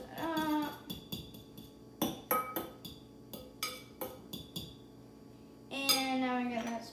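Deviled egg filling mashed with Dijon mustard and apple cider vinegar in a bowl, a spoon or fork knocking and scraping in a string of clinks and taps, with talking at the start and end.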